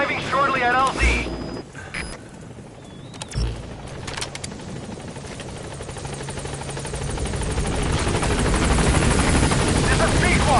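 In the video game Metal Gear Solid 5, a helicopter arrives at a landing zone, its rotor thrum swelling from faint to a loud, steady roar after a short radio voice and a few mechanical clunks.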